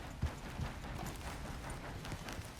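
Horse hooves galloping in the video game Red Dead Redemption 2, a steady, quick clip-clop run at moderate distance, fairly quiet and continuous with no talk over it.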